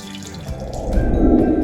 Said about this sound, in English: You're going to want to grate 2 russet potatoes and 1 onion and squeeze out all the water,